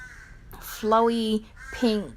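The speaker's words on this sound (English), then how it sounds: "Can you hear those birds?" Crows caw outdoors in two harsh, drawn-out calls separated by a short pause, heard at moderate volume along with a brief spoken word.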